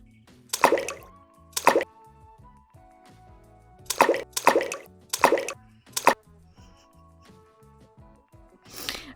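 Water dabbed onto clay while hand-building a jewelry bowl, a series of short wet splashy plops in uneven bursts, close and fairly loud, with quiet gaps between.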